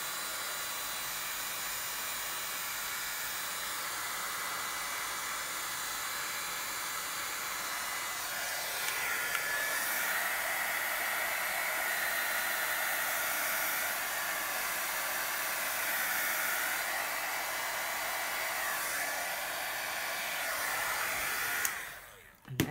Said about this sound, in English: Run the shrink tube up over it. And use the blower on it again.